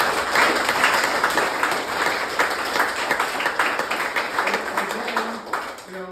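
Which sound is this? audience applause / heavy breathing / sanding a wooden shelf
audience applause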